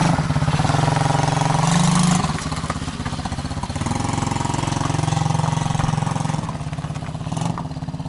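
A Mowgli Sharp ATV quad bike engine idles loudly up close, then revs and settles as the quad pulls away slowly, its mid-pitched chug running continuously throughout.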